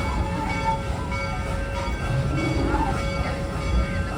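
Steady low rumble of the Serengeti train at Busch Gardens Tampa Bay rolling along, with faint squealing tones, heard from inside as it slows near a station.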